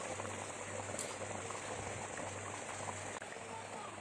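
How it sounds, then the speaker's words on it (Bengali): Potato curry (aloo dum) boiling steadily in a pot, with a dense, continuous bubbling and popping that holds close and even throughout, with no talking. "দেখো বন্ধুরা, আমার আলুর দমটা ফুটে উঠেছে।"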